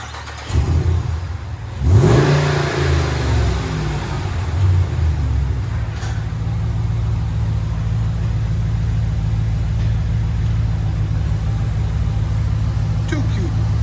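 Interior sound of a 2019 Dodge Ram Power Wagon with a 6.4L HEMI V8 and 12-inch glass pack exhaust: one strong rev near the start settles into a steady, loud low rumble heard from inside the cab.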